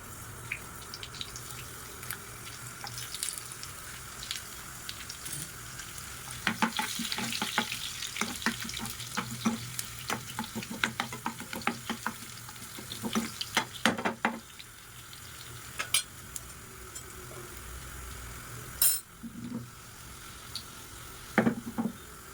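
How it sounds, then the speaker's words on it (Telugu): Cumin, mustard seeds and dried red chilies fry in a bowl of oil for a Telugu tomato pickle, giving a steady crackling sizzle with sharper pops and stirring clatter in the middle stretch, close by and with no talk. "నేనైతే బౌల్లో ఆయిల్ పోసేసుకున్నాను. కొంచెం జీలకర్ర, కొన్ని ఆవాలు, ఎండుమిర్చి ఒక 3,"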